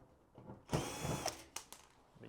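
A power screwdriver drive whirs and ratchets in short bursts while taking Phillips screws out of the back of a Samsung HE1 washing machine, close and fairly quiet.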